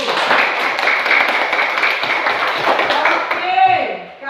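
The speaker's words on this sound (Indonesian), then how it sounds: "Kita tepuk tangan untuk kelompok 1." A school class claps for a group that answered correctly, a lively burst of many hands that thins out near the end.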